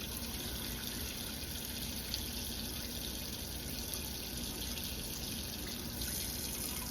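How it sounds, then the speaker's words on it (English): Hot water runs steadily from a kitchen tap into a sink while pots are washed with Dawn soap, giving a constant close rush with no voices. "I'll finish running the Dawn and the hot water down the sink for just a few more minutes"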